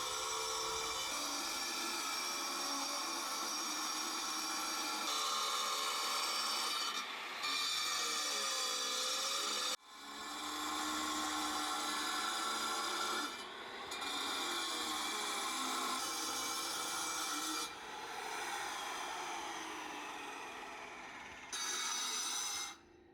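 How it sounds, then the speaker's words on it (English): An angle grinder whines steadily while cutting a step into a huge stone boulder, its pitch shifting under load, with a few brief cutoffs and restarts; loud and close. "I grabbed the grinder and started cutting a step"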